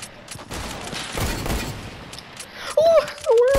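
Gunfire in Fortnite rattles as a burst of quick shots in the first half, followed by whistling, warbling game tones near the end, with a voice talking over it.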